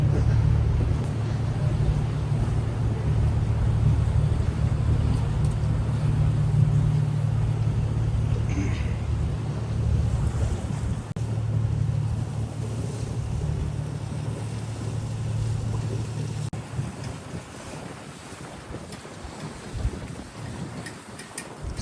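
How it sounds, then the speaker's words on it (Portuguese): Wind buffeting on a cruise boat on Lake Lucerne in the Swiss Alps, a steady low rumble with gusty noise lasting the whole stretch, fairly quiet, with faint murmuring in the background. "Acho que vocês vão estar ouvindo um pouco de vento aí, gente."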